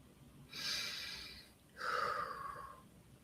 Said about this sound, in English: Take one more slow, grounding breath